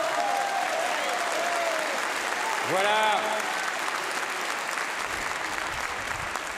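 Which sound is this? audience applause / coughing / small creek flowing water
audience applause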